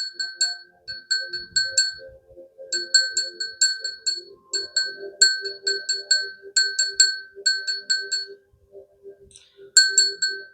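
A small handheld bell rings in quick bursts as its clapper is moved by fingers, with bright repeated dings clustered in short runs and brief pauses, close and clear over a low background hum.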